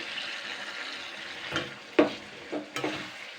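Ginger and garlic paste frying in melted fish fat, a soft continuous sizzle broken by a few sharp scrapes and clinks of a spatula stirring the pan, no talking.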